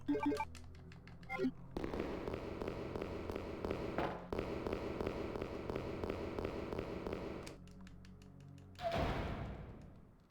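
A shotgun fires in the 1998 video game Resident Evil 2, with sharp blasts at the start and a loud, booming shot near the end over a steady hum of game sound.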